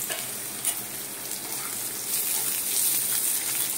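Poppy seeds frying in oil, a steady bright sizzle that swells louder toward the end, with faint stirring scrapes and no voices.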